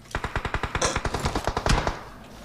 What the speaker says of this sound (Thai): ยิงกดมาจากทางด้านฝั่งของนูซี่ครับ